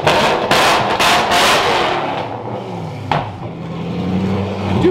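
Loud revving from a Ford GT MK1 fitted with a full catless Valvetronic exhaust, with several sharp bursts early on, then a deep lingering rumble and crackling pops as the engine settles.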